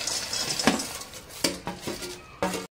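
Fried poha chivda ingredients tossed together in a metal pan with the flame off, giving a few close scraping, rattling stirs and clinks of a spoon against the pan.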